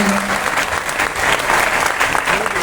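An audience claps steadily throughout at a live Hindi poetry recital, a dense continuous applause with no pauses and no clear speech over it.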